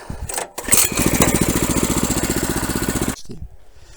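A walk-behind tractor's engine runs loud and close while loosening soil under tall potato tops, a steady rapid chugging pulse that cuts off near the end.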